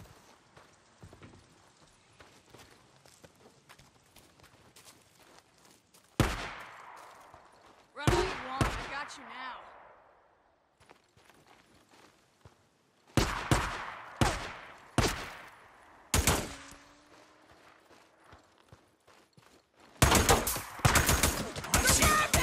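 Sporadic gunshots crack through a firefight in the Days Gone video game, single loud reports and short clusters separated by quiet stretches, ending in a dense rapid volley, with faint speech in the background.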